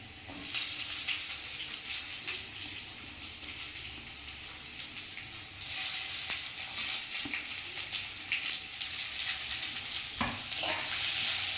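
Chopped onions frying with garlic in a wok for a village-style fish curry, giving a continuous sizzle with stirring scrapes that grow louder midway, plus a sharp knock near the end and no talk.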